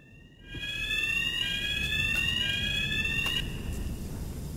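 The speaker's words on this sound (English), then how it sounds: "I accidentally pressed the fire alarm button" A fire alarm in the Hitman 3 video game, set in Mendoza, Argentina, sounds as a loud, steady electronic tone with wavering, sweeping pitch that starts abruptly after a brief quiet moment and continues without pause.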